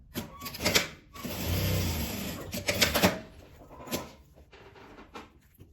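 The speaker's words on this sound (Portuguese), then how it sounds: "eu corto um pouquinho maior, então costuro por esse lado" Sewing machine stitching along the edge of a piece of fabric in a few short, close bursts, with handling clicks and rustles in the pauses between runs.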